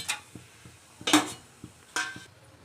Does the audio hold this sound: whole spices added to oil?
yes